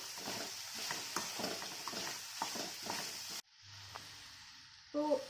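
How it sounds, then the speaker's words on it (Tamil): Ivy gourd sautéed in a pan with turmeric and salt, with rhythmic stirring scrapes over a steady sizzle for about three seconds before it drops to near silence and a brief clatter at the end. "இதை சேர்த்து ஒரு 2 நிமிஷம் நல்லா வதக்கிடலாம்"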